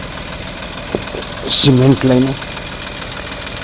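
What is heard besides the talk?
tractor engine idling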